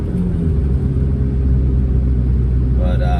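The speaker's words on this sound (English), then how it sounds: "A little downshift action here." An old $500 truck engine rumbles loudly while driving, holding a steady low drone as it downshifts, with a faint rising whine near the end.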